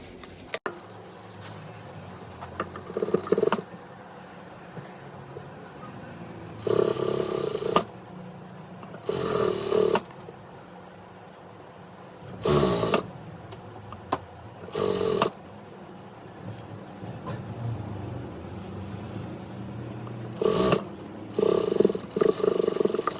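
A sewing machine stitches a lehenga in several short bursts of rapid mechanical whirring, each a second or two long, separated by quiet pauses.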